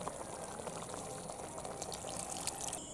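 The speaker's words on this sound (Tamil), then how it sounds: "மசாலா அரைச்ச கப்பிலையே தண்ணி சேர்த்து கலக்கி ஊற்றிக்கலாம்." A steady pour of ground masala mixed with water into a tamarind yam curry, with a bubbling wash, continuous and moderately close, with faint clinks near the end and no voices.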